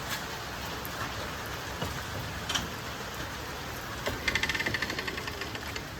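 Steady rain falls outdoors on a rainy winter day where foxes shelter under an umbrella, a constant close hiss with a few brief louder patters and drips partway through.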